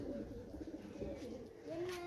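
Pet pigeons coo softly close by in a loft. A few low, rolling calls repeat over quiet background hiss.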